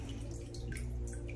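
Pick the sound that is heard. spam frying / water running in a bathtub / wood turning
water running in a bathtub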